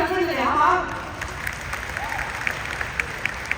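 After a brief spoken line, an audience at a business training event applauds its featured speakers, a soft, scattered clapping that lingers in the background.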